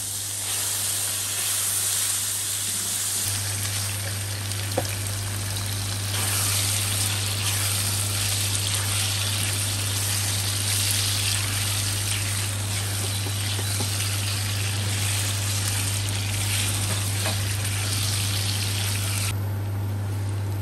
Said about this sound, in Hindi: अब जी हमारा चिकन फ्राई हो गया है